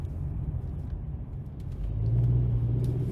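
A 2017 Kia Sorento LX with a 2.4-liter four-cylinder engine accelerating, its steady low rumble rising and swelling louder partway through, heard from inside the cabin with no talking.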